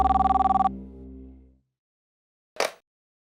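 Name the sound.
telephone ringing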